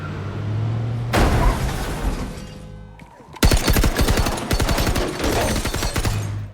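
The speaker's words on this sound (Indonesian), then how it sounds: "ternyata Frank ditembaki hingga aksi baku tembak pun gak bisa dihindarkan" A film shootout erupts in rapid gunfire, dense crackling volleys of shots rattling in quick succession, pausing briefly before another loud sustained burst of automatic fire.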